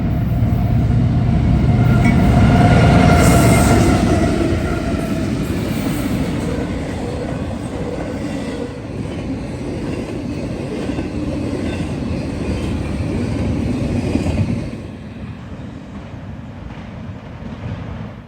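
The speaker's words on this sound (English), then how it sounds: "It was a Norfolk Southern intermodal with C6M leading, GEVO trailing second, and an ace in third." Norfolk Southern intermodal freight train with a C6M leading, a GEVO second and an ACE third rolls past close by, a steady, loud rumble of wheels and wagons with clattering rail noise that eases slightly toward the end.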